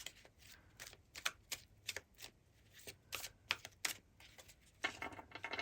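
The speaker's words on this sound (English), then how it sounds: "Now we're just gonna get a few tarot cards." Tarot cards are shuffled and drawn by hand, with a rapid series of soft, crisp riffling snaps and flicks close up, then a denser burst of shuffling toward the end.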